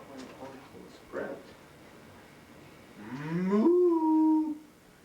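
A voice imitates Clover Cow with a long drawn-out moo that rises and then holds steady, fairly loud and close, after a short spoken sound.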